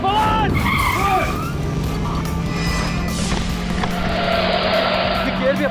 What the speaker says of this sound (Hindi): वो गाड़ी अचानक स्टार्ट हो गया और उसके बाद उसने गाड़ी अपने आप क्यों चल रही है?